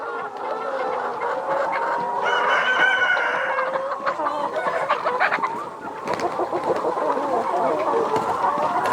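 Chickens and roosters fill a breeder farm pen, including sexually mature cocks with large red combs. Dense, continuous clucking and cackling from many birds runs throughout, with crowing calls rising over the flock near the middle.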